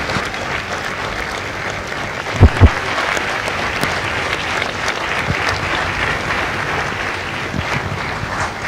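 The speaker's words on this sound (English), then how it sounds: "Ladies and gentlemen, a round of applause for their dedicated service to Corps and country." Sustained audience applause fills a large outdoor gathering at a Marine Corps Recruit Depot San Diego recruit graduation, a steady dense roar of many hands with a couple of sharp thumps near the start.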